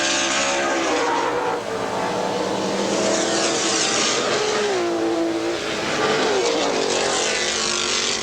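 Race cars at the 1982 Lime Rock IMSA Camel GT race, loud continuous engine roar with rising and falling revs as cars pass close by.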